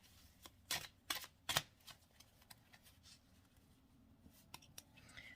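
A tarot card deck is shuffled up close with a few quick riffling bursts, followed by soft, faint card handling taps against quiet background.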